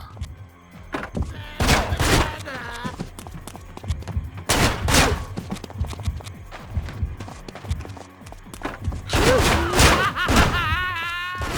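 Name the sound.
shotgun firing, from video game Manhunt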